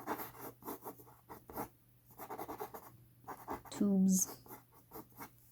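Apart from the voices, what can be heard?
drawing a horse on paper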